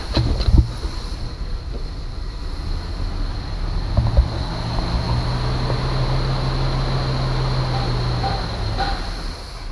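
A 1958 Cadillac engine that had not run in years, fed only by the fuel left in its carburetor, runs with a loud, steady, rough drone and low hum under broad wind-like noise.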